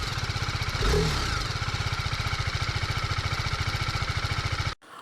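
A TVS Apache RR310 motorcycle engine catches with a brief start burst, then settles into a steady, close idle with a fast even pulse before cutting off abruptly near the end.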